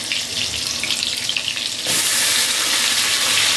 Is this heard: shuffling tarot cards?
no